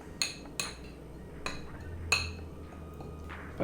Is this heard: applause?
no